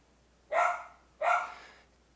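A pet dog barks twice at home, two separate, fairly close woofs about half a second apart, with quiet in between.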